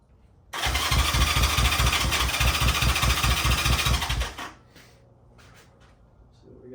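A Honda CB360T motorcycle, first started after many years and just sprayed with brake clean, fires up and runs with a loud, steady pulsing beat for about four seconds, then cuts out abruptly, leaving near silence.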